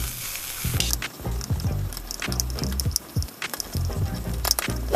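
Rice fries in oil in a pan with a loud, crackling sizzle, broken up by repeated clattering scrapes and stirs of a utensil against the pan, close up and with no talking.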